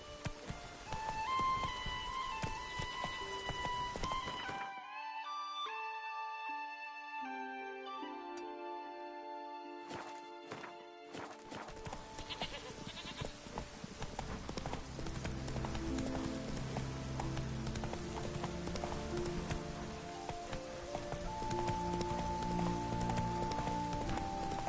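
Roach, a horse in The Witcher 3, gallops with steady rhythmic hoofbeats over a game soundtrack of music, continuing loud and close through most of the stretch.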